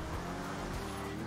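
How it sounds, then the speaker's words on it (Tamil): A car engine in the game GTA V hums steadily at moderate, constant loudness throughout, with no voices over it. "ஏ ரைட் வெஹிக்கிள் சவுண்ட் கேக்குது எனக்கு"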